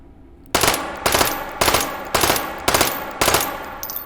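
Six loud, evenly spaced three-round bursts from a gun with a 150-round magazine in the VR shooter H3VR, each burst a sharp cluster of shots with brief gaps between, no talking.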